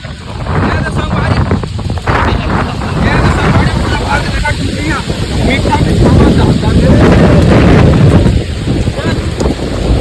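Strong storm wind roars continuously and loudly against the microphone outdoors in Chhattisgarh, a dense gusty rumble filling the whole stretch while voices shout and talk over it.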